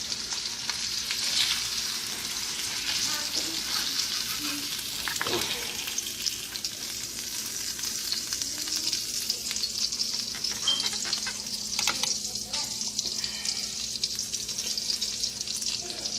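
Fish frying in butter in a pot on a stove top, a constant close sizzle with occasional scrapes and clinks of a utensil, no clear voices.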